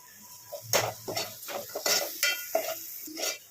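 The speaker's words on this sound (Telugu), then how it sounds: "పసుపు వేసాక ఒక నిమిషం వరకు వేయించుకోండి" Turmeric frying in a pan for village-style country chicken curry, heard as a series of close scraping stirs of a spoon against the pan over a faint sizzle, with short pauses between strokes.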